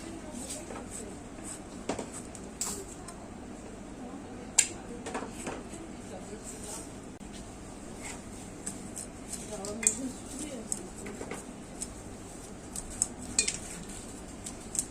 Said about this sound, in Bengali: এই যে এখন আমি গাছের করলা পেরে কেটে নেব